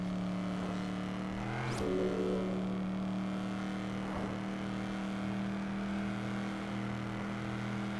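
A car engine in the racing game Test Drive Unlimited drones at a steady high rev, holding a sustained, even pitch with one brief whooshing sweep partway through, continuous and fairly close.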